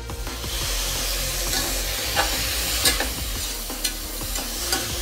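Steady sizzling of chopped tomatoes frying in a pan, with scraping and clacking as they are stirred, a few sharper knocks standing out.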